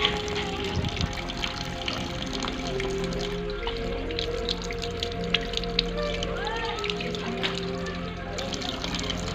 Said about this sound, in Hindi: पहले हाथों को धोना अच्छी तरह साबुन के साथ।